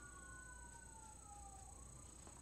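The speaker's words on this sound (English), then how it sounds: "Oh, they're sirens. I don't know if you can hear them." Distant emergency sirens wail outside, a faint sliding tone that slowly drops in pitch beneath a steady background hum.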